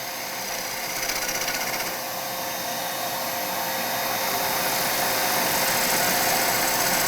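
A gouge rubs its bevel and pushes through a large natural-edge wooden bowl blank, roughly three feet across, spinning on a lathe, producing a loud, steady, broadband hiss and rumble of cutting and motor that runs on without a break.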